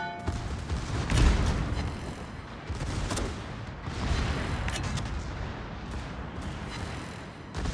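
Naval artillery fire support from the battleship Tirpitz in a war video game, heavy booming salvos and rolling blasts with scattered sharper gunfire cracks across a rumbling battle backdrop.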